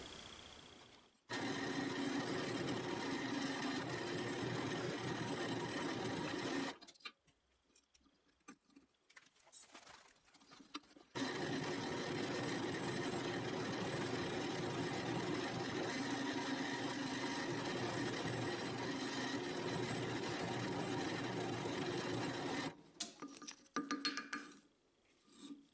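Holes being drilled through knife handle scales while the scales are still one piece, a steady whirring drill run of several seconds, a short pause, then a longer continuous drilling pass, close and fairly loud with no talk.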